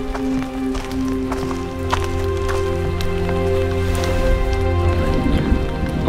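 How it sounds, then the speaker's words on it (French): Rain falls steadily in a mountain forest, a dense, continuous patter of drops on surfaces with occasional louder drips, fairly close and loud, with a low background hum and no talk. "Il pleut."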